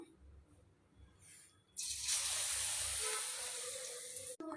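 Onion vadas dropped into hot oil set off a sudden loud, steady sizzle that rises after a quiet start and holds for a few seconds before cutting off, close by.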